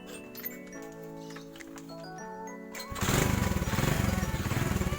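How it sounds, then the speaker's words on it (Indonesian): A stock-engine Honda 70 motorcycle fires up about three seconds in and settles into a loud, steady idle with a fast, even putter, following a stretch of quieter background sounds. "Motor kondisi hidup."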